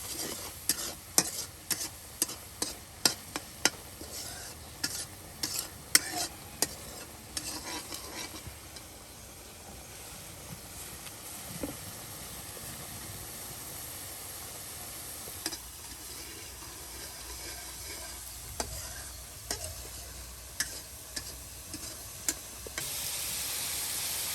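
Singhi fish mixed with puti and tangra sizzling in a hot pan while being stirred, with a steady frying hiss under repeated sharp metal scrapes and clacks of a utensil, clustered early and then spaced out.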